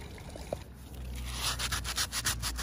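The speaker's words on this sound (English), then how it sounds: "the wet paint is actually clogging up the pad while he's trying to flat it and sand it" Wet paint is sanded off the roof of a BMW E46 car with a clogging pad, making a faint, close, uneven rubbing scrape that grows busier and more rhythmic toward the end.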